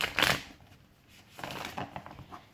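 Tarot cards shuffled in a short burst of riffling and crisp shuffling, close and fairly quiet, followed by softer scattered card handling.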